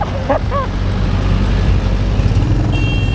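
Trucks grinding along a steep, winding ghat road near Lonavala, a steady low engine rumble heard from a distance beneath wind, with a few brief dog yelps near the start.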